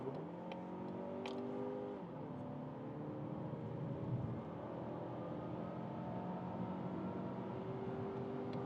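A car with a naturally aspirated 2.5-liter engine accelerating from speed, a steady mid-loud engine drone with rising harmonic tones and constant road and wind noise throughout.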